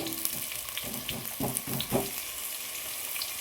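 Sliced onions fry in oil for dum biryani, crackling with a busy, steady sizzle broken by several soft scrapes and clinks of stirring.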